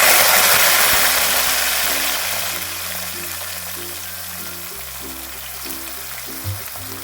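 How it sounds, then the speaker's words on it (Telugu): Eggplant pieces drop into hot oil and fry with a loud, broad hiss that slowly fades and settles, over a low mechanical hum, with no talking. "ఇప్పుడు ముందుగా కట్ చేసి పెట్టుకున్న వంకాయ ముక్కలు అయితే వేసేసుకోవాలి."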